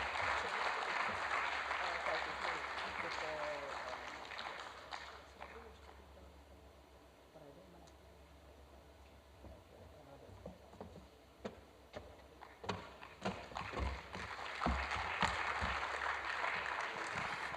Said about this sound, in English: Please sustain that applause till she gets to her seats.